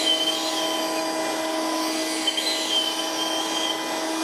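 Bossdan cordless handheld vacuum cleaner running continuously, a steady high-pitched whine and airy hiss with a faint squeal, fairly quiet and close, with no voices.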